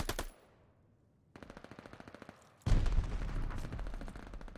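Rapid automatic gunfire in a competitive tactical shooter match, with a faint single burst of evenly spaced shots followed by a loud, dense, sustained volley up close.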